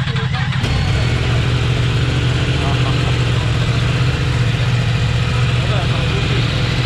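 A Yamaha R1 60th anniversary motorcycle engine idles steadily up close, with a low continuous rumble throughout and a brief louder burst at the start.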